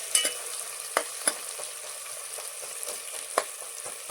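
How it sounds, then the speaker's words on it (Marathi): Onion dropped into lightly heated oil for a spicy chicken gravy fries with a steady, faint hiss, broken by a few sharp stirring clicks and pops, with no talking. "तेल जरासं गरम झाल्यानंतर कांदा टाकायचा"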